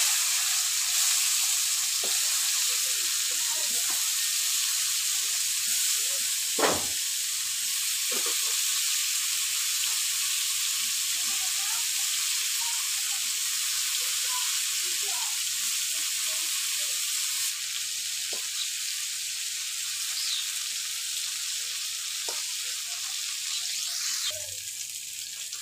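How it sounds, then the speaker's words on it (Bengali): Bitter gourd (karela) slices, tossed with turmeric and salt, fry in hot oil with a steady, even sizzle that lasts throughout, with occasional stirring knocks and scrapes. There is no talking. "করলা ভাজা নিলাম,"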